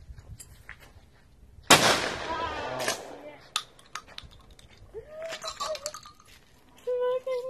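A Remington 870 Express 12-gauge pump shotgun shooting clays at an outdoor range in Ocala: one sharp, loud blast with a trailing echo, followed by clicks and handling noise and people talking.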